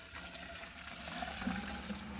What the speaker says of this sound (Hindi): एक डब्बा पानी भर के हम इसमें डालते हैं